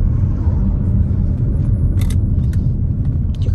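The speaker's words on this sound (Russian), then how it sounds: "Тихо-тихо, сзади машина." A car passing behind, a close, loud low rumble of engine and tyres that holds steady throughout, with a few faint clicks on top.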